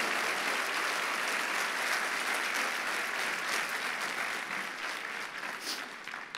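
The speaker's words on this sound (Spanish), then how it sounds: "Vamos a decir ese aplauso para el Señor" A church congregation applauds for the Lord during a sermon, a loud continuous wash of many hands clapping that holds steady and fades slightly at the end, with no speech over it.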